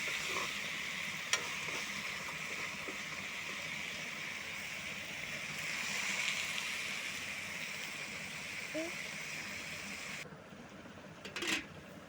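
Steady loud sizzling of meat frying in a pan, with occasional stirring scrapes and clinks near the end.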